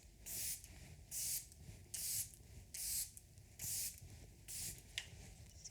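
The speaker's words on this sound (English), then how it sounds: "I'm gonna put some glowy setting spray on your face." Glowy setting spray misted onto a face during a close-up makeup session, six hissing bursts at an even rhythm with short pauses between them.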